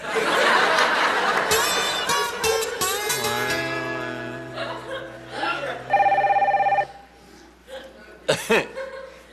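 A telephone rings with a steady electronic tone, heard amid talking, chuckling and laughter from people in the room.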